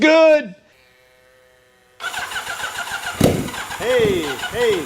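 A vintage motorcycle engine catches after a short pause and settles into a lumpy, uneven idle with popping firing pulses, heard fairly close while voices speak over it.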